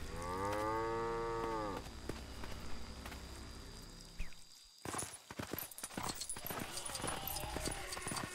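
Oxen in Lego Jurassic World low in a long drawn-out moo, followed by clip-clopping hooves and scattered game effects as the animal is ridden, with a voice talking over it.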